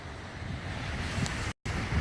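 A river rushes steadily with a broad, continuous wash of flowing water and wind noise, heard from the bank with no talk.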